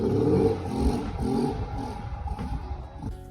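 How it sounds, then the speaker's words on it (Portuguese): A 2011 Honda Fan 125 motorcycle being bump-started, its engine catching with an uneven rough clatter and sputtering revs, fairly faint, with clanking noises toward the end. "Botei a moto para pegar no tranco."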